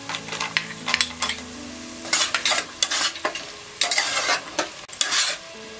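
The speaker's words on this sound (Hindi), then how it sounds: "जीरा फ्राई होने के बाद डालेंगे ये अनियन, अनियन को 2 मिनट सौते करने के बाद हम डालेंगे ये कैश्यू नट्स" Onion sautés with cumin in a pan for vegetable pulao, with repeated close bursts of spatula scraping and stirring over a steady sizzle.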